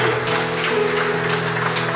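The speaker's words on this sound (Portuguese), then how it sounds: "Então, um forte aplauso ao Senhor." A church congregation applauds during an evening family-ministry service, sustained dense clapping filling the room for two seconds at steady loudness, mixed with a held musical tone underneath and no clear speech.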